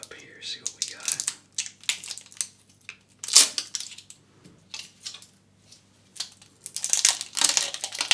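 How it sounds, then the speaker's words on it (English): A razor blade slicing and tearing open plastic packaging, heard close as a run of short crinkly cuts and rustles in uneven bursts, with a sharper snap partway through and quiet gaps between. "I'm going to use this to open the plastic because my knife is in the other room"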